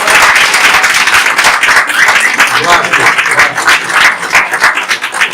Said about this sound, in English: please give a round of applause to our videographer